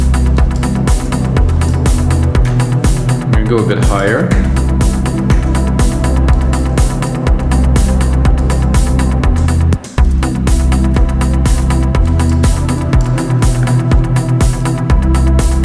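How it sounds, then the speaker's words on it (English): A lush, sustained Anjuna-style synth pad from a Sylenth synthesizer for chill melodic house, holding warm chords with a steady low end through the whole passage while a voice briefly speaks over it. "this legendary pad, for me at least, is the Anjuna pad"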